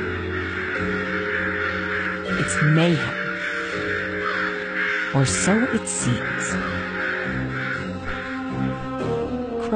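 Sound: crows cawing

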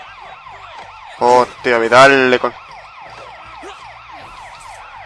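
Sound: police sirens in the video game Sleeping Dogs

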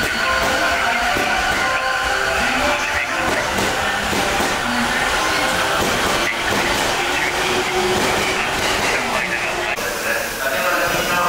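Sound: temporary limited express train passing through Ochanomizu station

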